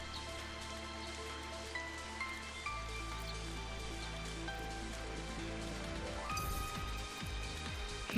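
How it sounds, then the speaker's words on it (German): Steady rain falls in Final Fantasy XIII, a continuous hiss of drops on surfaces that stays even and moderately loud, with game music tones running alongside and no talking. "wir bleiben einfach mal beim Regenwetter"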